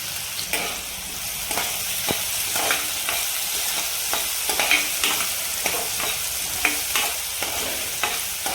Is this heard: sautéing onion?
yes